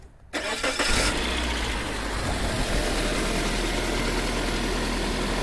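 A 2003 Suzuki Aerio SX with a 2.0 L engine and a no-crank, clicking electrical fault undergoes a start attempt: a sudden loud mechanical whir kicks in and holds as a steady, dense engine roar, close up, with no speech.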